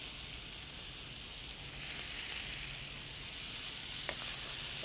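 Onion, garlic and sausage fry in a pan with a steady, soft sizzling hiss and faint crackles, heard alone at moderate distance.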